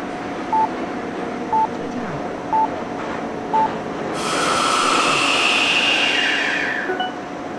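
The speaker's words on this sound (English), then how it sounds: "The dinging noise that you can hear sometimes." Four short, evenly spaced electronic dings sound over the rumble of a train in a London Underground train simulator game, signalling the next station. A louder hiss of brakes or air follows.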